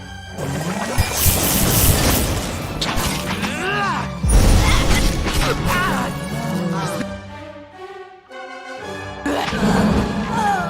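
Detonation blasts in the video game Pillars of Eternity, a series of loud crashing, shattering bursts with falling tonal effects, several impacts spread across the stretch with brief lulls between them.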